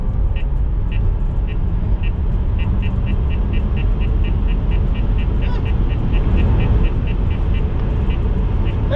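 A Tesla Model 3 electric car accelerates hard on a straight road, heard from inside as a steady loud rumble of road and tire noise with a faint motor whine, with no engine roar and no pauses.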